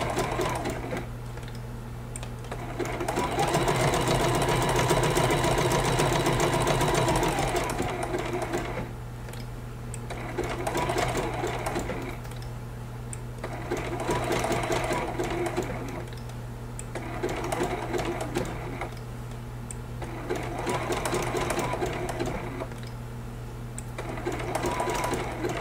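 A sewing machine runs satin stitch applique on a teddy bear baby quilt over stabilizer, in repeated bursts of rapid whirring stitching separated by short pauses, close and steady with a low motor hum throughout.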